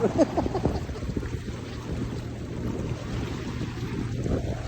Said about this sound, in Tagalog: Laki ng alon, oh.